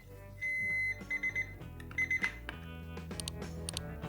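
Alarm signal of a DS-8190 projection clock weather station: a close, loud electronic beeping in short repeated bursts with a sustained opening tone, playing alone without any voices.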